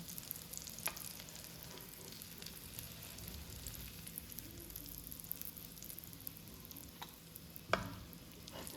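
Carrot kebabs frying in hot oil, a steady soft sizzle with scattered sharp spatters and pops, fairly quiet and close, without talk.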